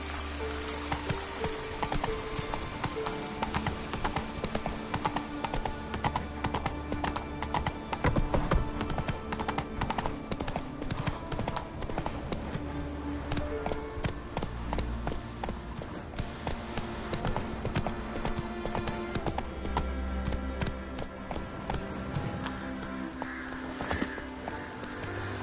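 Roach, a horse in The Witcher 3, trots with a steady clip-clop of hoofbeats throughout, set against a busy in-game backdrop of music and ambient rain-like texture, with no talking.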